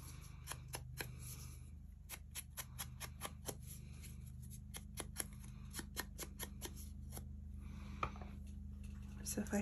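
Scissors snip a small square of paper for scrapbooking, a rapid series of quiet, close, crisp cuts over a low steady hum.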